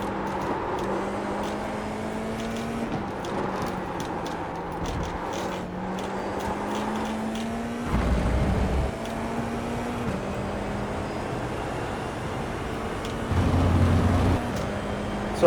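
A race car engine in Assetto Corsa pulling out of the pits, a steady droning whine that rises and falls in pitch as the gears shift, with two heavier low thumps along the way and no talking.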